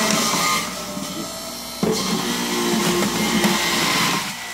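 A motorized juicer grinds celery for green juice made with spinach, giving a steady, loud mechanical whir with a sharp jolt as the stalk is fed in, then continuing under a constant hum before winding down.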